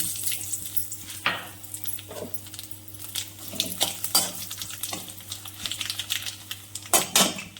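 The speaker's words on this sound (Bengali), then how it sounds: "আমি ইলিশ মাছ মাথাটা যে ভাজার তেলটা ওর মধ্যেই ফোড়ন করে দিচ্ছি" Dried red chillies, bay leaves and nigella seeds crackle in the hot oil left over from frying hilsa fish heads. Sharp pops and a steady sizzle sound close by, along with intermittent stirring.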